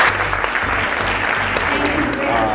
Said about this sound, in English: Let's give a round of applause for ourselves.